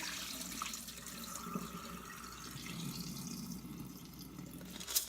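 Water draining from washed sweet rice, a steady trickle and patter of liquid running off with small drips, fairly faint and continuous, ending in a brief sharper splash.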